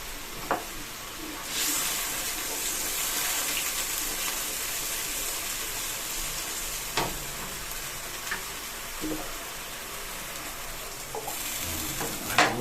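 Water is poured into a hot pan of steak fish, setting off a bright, steady sizzle with faint stirring clicks, close and alone without talk.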